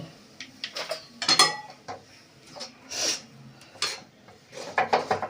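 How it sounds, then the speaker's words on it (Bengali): Cow's milk is stirred in a kadai with a metal utensil, producing intermittent soft scrapes and light clinks against the pan, close but fairly quiet, with gaps between strokes. "এইবারে এর মধ্যে গরু দুধটা ঢেলে দিলাম দিয়ে ভালো করে নাড়ব"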